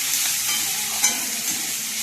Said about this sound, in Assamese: এয়া মই পিঁয়াজ দি দিছোঁ, লগতে তেজপাতো দি দিছোঁ।